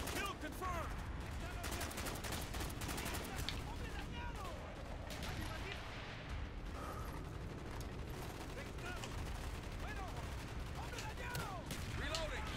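Sustained RPK machine gun fire in a Call of Duty: Black Ops campaign battle, dense and continuous for the whole stretch, mixed with other combat noise and a voice speaking over it.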